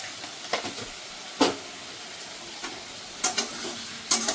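Turmeric, chilli powder and salt are sautéed with potatoes and radish for a fish curry, a continuous close sizzle punctuated by several sharp stirring scrapes and knocks against the pan.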